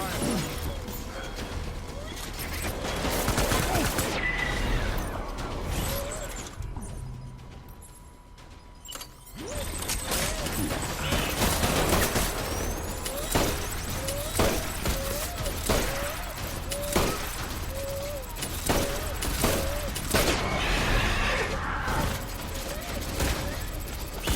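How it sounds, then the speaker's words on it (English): Gunfire from the video game Death Stranding: a busy stretch of sharp bursts and impacts spread across the scene, mixed with game effects and music, with a short quieter gap before the shots resume and keep going. "Open fire!"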